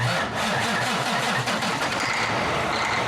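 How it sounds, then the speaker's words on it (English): A Cummins ISX truck engine cranks and catches, the rapid starter chug giving way to a rough, loud diesel rumble that settles toward idle, close by and without speech. "Put the cap back on and we're going to start the engine"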